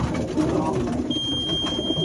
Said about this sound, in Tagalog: Ito yung mga ibon.